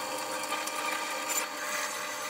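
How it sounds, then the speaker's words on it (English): Steady high-pitched whirring and grinding of a small drill biting into metal while building a Super 7 Locost car, continuous and close, with no voices. "And starting with a smaller drill first."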